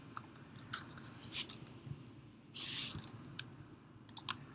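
Faint, sharp clicks come from a mouse while drawing with a pen tool, scattered irregularly over a quiet room hiss, with one short louder rustling burst in the middle.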